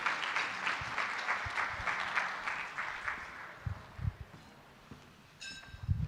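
Applause from a gala anniversary audience, broad and steady at first, then thinning to scattered claps that fade out near the end.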